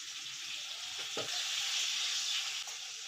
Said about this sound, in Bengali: ট্যাংরা মাছগুলো নুন হলুদ দিয়ে মাখানো আছে, এবার ভেজে নেব।